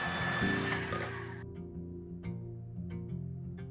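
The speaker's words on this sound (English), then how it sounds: "We are planing it down so it fits neatly into place." A power planer shaves down a wooden baseboard in a workshop, a loud high-pitched whine and rasping cut that drops away into lower motor drone with scattered knocks and clatter.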